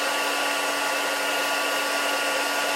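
A heat embossing tool blows hot air in a continuous, even hiss with a faint steady hum underneath, close and unbroken throughout.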